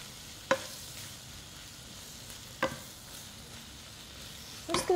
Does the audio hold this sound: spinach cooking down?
yes